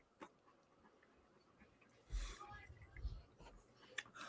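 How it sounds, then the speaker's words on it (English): A puppy pants and whimpers softly nearby in a few brief bursts, under quiet talk. "Puppy, calm down."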